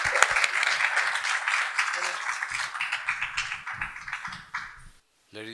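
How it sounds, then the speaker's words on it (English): Audience applause at an international legal conference in 2015, dense steady clapping from a hall full of people that fades out toward the end, with a brief bit of room noise after. "let's give him a big round of applause."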